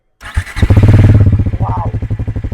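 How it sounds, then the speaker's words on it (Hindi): A Bajaj Pulsar NS400Z motorcycle, 2024 model, cranks briefly and fires up close by, then settles into a loud, pulsing exhaust idle with a strong low throbbing rhythm. "एग्जॉस्ट का नोट सुनना है, बिल्कुल एग्जॉस्ट नोट आपको सुनाता हूं मैं NS400Z का। स्टार्ट करो गाइस।"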